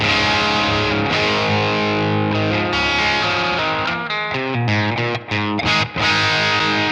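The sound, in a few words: electric guitar through vintage Marshall drive preamp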